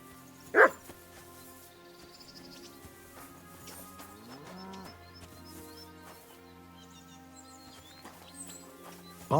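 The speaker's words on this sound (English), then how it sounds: "Barking." A dog barks twice within a medieval open-world game, Kingdom Come: Deliverance, one loud bark at the start and another at the end, over soft ambient game music.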